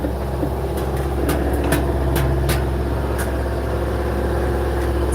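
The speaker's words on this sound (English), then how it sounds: "It's gonna be a little loud because we're running the engine." A sailboat's engine running while motoring toward Fiji, giving a steady, loud low hum with constant tonal drone and no change in pace, heard close and alone without talk.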